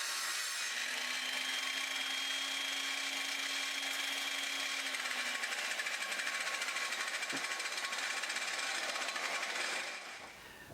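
Handheld jigsaw cutting wooden ladder rungs against a clamped stop, a steady buzzing rasp running close and continuous for about ten seconds before cutting off.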